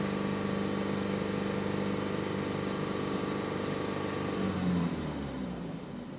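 A 2012 Chevrolet Malibu engine with a faulty exhaust cam solenoid runs at a steady raised idle, a continuous droning hum that lifts briefly in a short rev near the end before settling lower.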